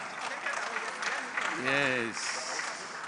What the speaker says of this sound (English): A round of applause for Dakuku Peter.